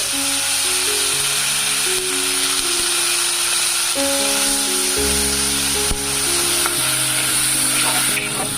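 Green chillies and tomato hit hot oil in a pan of fried fish for a fish curry, raising a loud, continuous sizzle with stirring scrapes, close by and with no talking.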